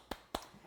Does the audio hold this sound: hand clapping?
yes